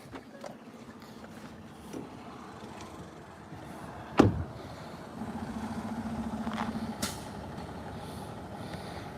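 A truck idles with a steady low rumble while a sharp air-brake hiss bursts out midway, followed by a few fainter clunks and a rising engine drone.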